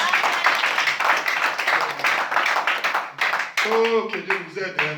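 A church congregation claps and applauds together in worship, dense continuous clapping that fills the room before a voice rises over it near the end.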